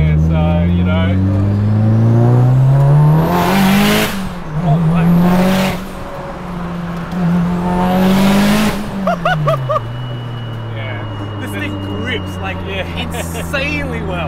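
A 600 hp Mitsubishi Evo 8 race car driving on public streets, heard from inside the cabin as the engine revs hard and climbs through gears, drops off, then pulls again with loud, rising engine roars.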